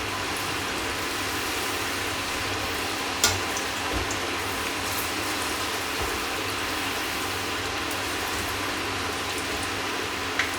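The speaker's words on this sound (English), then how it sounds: "We'll fry these ribs for about 1 or 2 minutes in this hot oil here." Pork ribs fry in hot oil in a wok, giving a steady, dense sizzle with faint crackles and occasional pops, close and continuous, with no talking.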